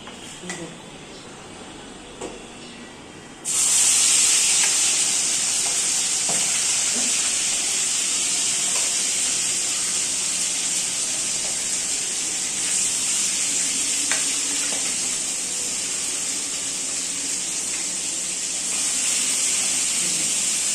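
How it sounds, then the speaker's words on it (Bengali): Marinated liver hits hot oil in a wok with a sudden loud sizzle that keeps hissing steadily, with faint clinks and stirring sounds underneath. "এবার ম্যারিনেট করা যে গিলে মেটেটা এবার এগুলো দিয়ে দেবো কড়াই তেলের উপরে"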